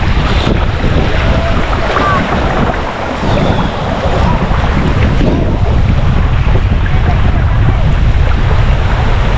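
Strong floodwater current during typhoon flooding, a loud continuous roar of rushing water mixed with heavy wind buffeting the microphone, with no clear talk.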